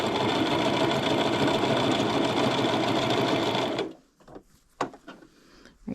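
A sewing machine runs steadily for about four seconds, top stitching shirt fabric with a fast, even mechanical chatter up close, then stops, leaving quiet handling clicks and small knocks.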